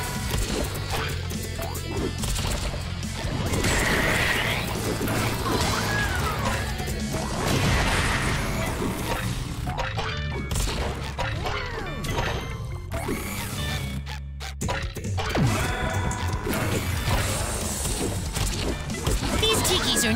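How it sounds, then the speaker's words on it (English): Wooden tikis in the Bikini Bottom Tales game are smashed by karate blows, giving a dense string of loud cracking wood crashes and thwacks, with talk and busy game sounds around them. "These tikis are no match for my wood-smashing karate skills."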